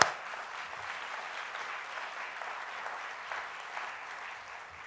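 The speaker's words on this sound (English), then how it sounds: "You can go ahead and applaud for that." Audience at a grandparents raising grandchildren symposium applauds grandparents and kinship caregivers, an even, sustained round of clapping from a room full of people heard on its own.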